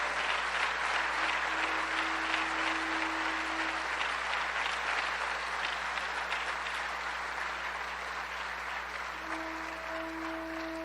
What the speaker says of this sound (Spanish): Si le vas a dar un aplauso a Jesús,